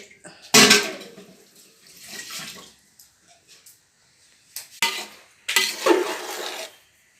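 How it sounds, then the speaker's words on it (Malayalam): Rice and masala stirred together in a cooking pot, with a spoon scraping and clattering against the metal in two loud bursts separated by quieter intermittent scrapes. "അപ്പോൾ നമ്മൾ ചോറ് മസാലയും റൈസും കൂടി ഒന്നിച്ച് ഇളക്കണം."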